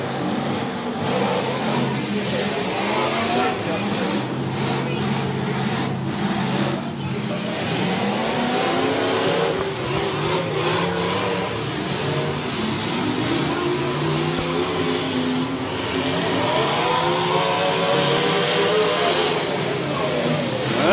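Several demolition derby cars rev and roar their engines at a fall cleanup derby, a continuous loud mix of mid-pitched engine noise rising and falling with crowd and arena ambience throughout.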